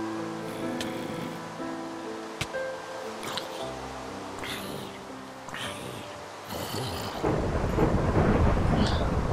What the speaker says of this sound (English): It appears there's a lightning strike right there.